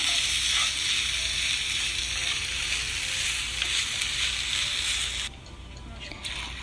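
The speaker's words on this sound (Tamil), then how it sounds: "ஒரு 2லேருந்து 3 நிமிஷம் வரைக்கும் இதை வதக்கிக்கோங்க" Tomato and onion sauté in a pan with a steady, bright sizzle that runs continuously, then drops noticeably quieter for the last second or so.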